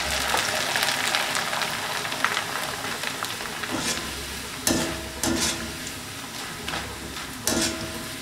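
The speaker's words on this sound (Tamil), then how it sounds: "நல்லா ஆயில் ஹீட்டாக இருந்துச்சுன்னா ஒரு நிமிஷத்தில் உங்களுக்கு வந்து அப்படி பொரிஞ்சிடும்" Store-bought snacks deep-fry in hot oil with a loud, continuous crackling sizzle, broken now and then by sharper bursts and clinks, as someone talks over it.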